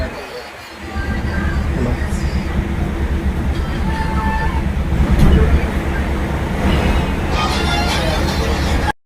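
A crowded Indian local passenger train rumbles along with a steady low roar and rattling, heard from inside the carriage, with people talking nearby over the noise.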